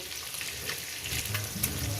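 Eggs fry in hot oil in a home kitchen pan for an egg curry, giving a steady close crackling sizzle with small spattering pops throughout.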